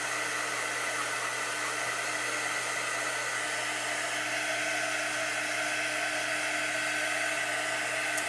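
A hair dryer drying ink on a paper craft project, a loud steady whirring blow that runs without a break from start to end, close up and with no talking.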